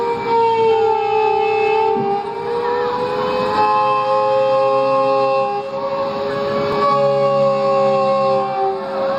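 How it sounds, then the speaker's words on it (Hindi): Civil defense siren sounding during a blackout drill in Uttar Pradesh, a steady wailing multi-tone howl that holds loudly across the whole stretch, with a faint low hum and background commotion beneath it. "लोग परेशान थे, सायरन बज रहा था और ब्लैकआउट हो गया।"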